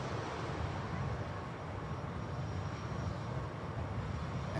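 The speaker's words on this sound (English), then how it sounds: "Next to go from the second runway is this Ryanair." A Ryanair jet taking off from the runway at Manchester Airport, a steady, broad roar of engine noise that holds at an even, moderate level throughout.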